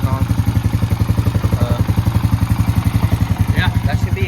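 A Honda Rancher 350 ATV engine idles steadily after a carburetor replacement, a close, even chugging pulse that runs throughout with a brief clatter near the end.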